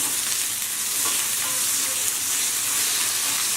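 Onion and chopped tomatoes with pink Himalayan salt fry in a hot cast iron pan, giving a steady close sizzle and hiss that runs evenly throughout with no talking.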